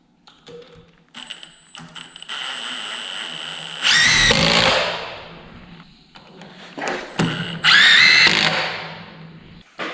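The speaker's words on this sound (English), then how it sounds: "I'm gonna go ahead, drop a screw in there." A power drill whirs and squeals in two loud bursts as it drives screws into wood trim, with quieter handling and tool noise between the runs.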